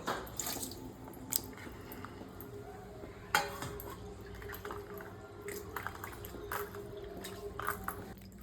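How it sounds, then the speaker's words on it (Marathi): Quiet splashing and dripping of water with occasional soft clinks as fresh river fish are rinsed by hand in a basin. "इकडे मस्त आई मासे पहिले धुवून घेते"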